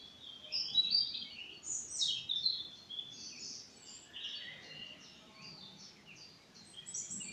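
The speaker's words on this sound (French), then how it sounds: "les oiseaux chantent" Birds chirp and sing in bursts of high, bright notes over a quiet outdoor background, moderately close.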